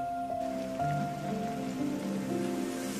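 Steady rain pours over a dramatised film scene, a continuous hiss with faint tonal background music running underneath.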